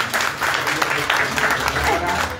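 A crowd applauds at a ceremony where a cheque is presented, giving steady, fairly close clapping with voices mixed in.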